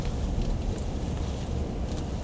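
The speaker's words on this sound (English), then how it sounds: "So you can see it's pretty windy and gusty." Gusty wind blows during a snow blizzard in a coastal town, a steady low roar that buffets the microphone with uneven gusts.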